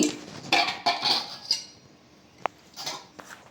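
A metal spoon scoops ghee and clinks against a pan in a kitchen, a handful of close, sharp taps and scrapes spaced irregularly with quiet gaps between.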